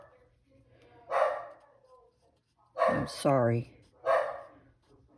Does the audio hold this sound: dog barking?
yes